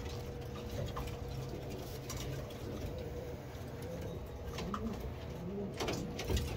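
Racing pigeons coo softly and steadily in a breeder loft, a low continuous murmur of many birds with faint ticking and scattered rustles.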